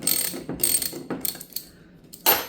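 A ratchet wrench clicks in quick bursts as it unscrews a bolt on the intake of a 1990 Mazda Miata, close and loud with short pauses between strokes.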